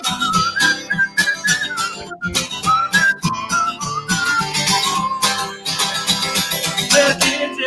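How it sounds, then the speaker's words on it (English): Short, bright whistle notes come in a quick melodic run, played loud over a lively band accompaniment in a Christmas song, with the whistle line sitting clearly on top of the rhythmic instrumental backing. "Little whistle."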